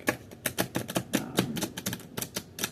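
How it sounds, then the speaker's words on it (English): A new deck of thin, smooth oracle cards is shuffled by hand, producing rapid, rhythmic riffling and flicking clicks at moderate, close range with no talking. "This is the first time I'm shuffling the deck."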